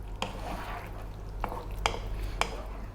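Potato egg curry being plated, with a few sharp clinks of utensils against pots and dishes over a low steady background hum.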